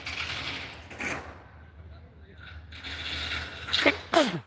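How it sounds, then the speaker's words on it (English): A sudden sneeze bursts out near the end, sharp and close, following a brief sniffly buildup, with some faint shuffling and mechanical noise earlier. "I feel like I'm gonna sneeze again."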